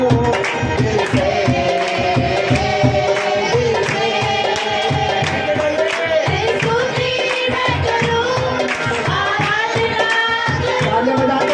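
A church congregation claps in rhythm during a Hindi Christian worship song, steady hand claps under loud amplified music and singing that carry on throughout.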